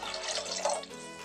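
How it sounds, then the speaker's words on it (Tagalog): Water pours into a soup pot in a kitchen, a close splashing gush that eases toward a quieter trickle near the end. "Lagyan lang natin ng tubig"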